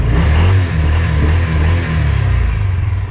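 A Cub Cadet Challenger MX750 UTV with a 750cc single-cylinder engine revs up loudly and close by. The engine note surges and falls in repeated bursts.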